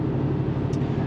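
A supercharged 6.2-litre 2008 Chevy Tahoe cruises slowly along a highway, its steady engine drone and road rumble continuous and even throughout, with no voices.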